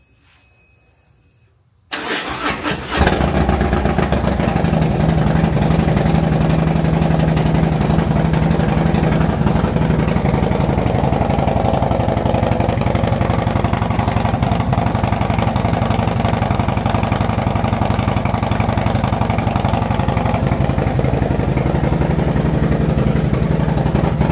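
Harley-Davidson with an S&S 114 engine, 475 cam, 2-into-2 pipes and 4-inch slip-ons with baffles fires up after a quiet moment, then idles loud and steady with a deep, continuous exhaust rumble.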